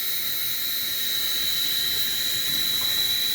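A covered pot of Malabar spinach curry with hilsa fish boils on a gas stove over high heat, giving off a steady, close, high hiss of steam.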